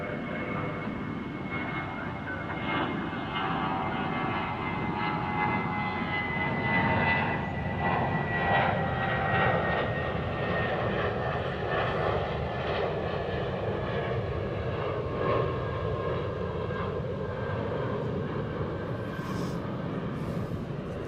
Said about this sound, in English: So there's an A300 getting ready to take off